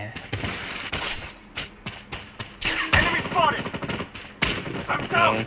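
Rapid gunfire bursts from the mobile shooter game Blood Strike, loud and close, with repeated automatic volleys and clattering shots across the whole stretch while someone talks over them.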